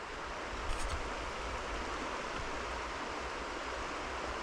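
A wide river flowing steadily, a soft, even rushing wash heard from nearby, faint and unchanging, with a brief slight rustle near the start and no voices.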